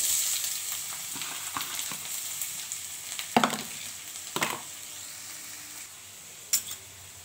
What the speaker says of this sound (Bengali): কড়াইতে তেল দিয়ে দিলাম, পেঁয়াজ দিয়ে দিলাম,